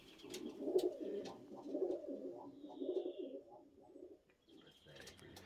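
Birmingham Roller pigeons coo in soft, repeated low phrases nearby, with a rhythmic throaty murmur and faint chirps around them.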